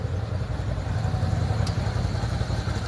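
A motorcycle engine idles steadily nearby on a roadside during a police stop, a low continuous rumble with no speech over it.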